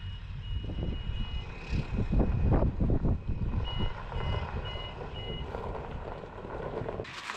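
A delivery truck reverses, its backup alarm sounding a steady series of evenly spaced high beeps over a loud rumbling diesel engine nearby, the engine swelling mid-clip before easing off.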